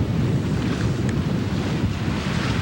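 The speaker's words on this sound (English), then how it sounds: "Once in a while, one of these big waves will hit us on the quarter" Waves wash and surge against a sailboat under way at about 8 knots on Lake Huron, a steady broadband rush of water and wind buffeting the microphone, continuous and fairly loud with no voices.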